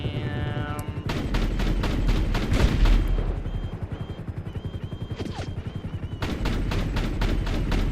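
Rapid continuous minigun fire in GTA V Online, a dense, loud mechanical rattle of shots that runs almost throughout with brief pauses, alongside other gunfire and game sounds.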